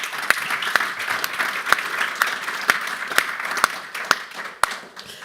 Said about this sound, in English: Please, a round of applause for our speakers.